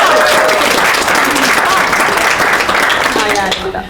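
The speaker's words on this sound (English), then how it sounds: "Let's give her a round of applause." Sustained audience applause fills the clip, dense and steady, with a few voices mixed in before it begins to fade near the end.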